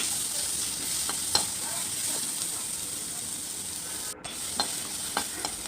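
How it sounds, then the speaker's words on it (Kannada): Onions frying in a pan for a bitter gourd curry, a constant bright sizzle and hiss close by, with a few soft stirring scrapes and no voices. "ಅದಕ್ಕೆ ನಾವು ಈರುಳ್ಳಿ ಹಾಕಬೇಕು ಚೆನ್ನಾಗಿ ನಾವು ಇದನ್ನು ಫ್ರೈ ಮಾಡ್ಕೋಬೇಕು ಗೋಲ್ಡನ್ ಬ್ರೌನ್ ಕಲರ್ ಬರುವವರೆಗೆ"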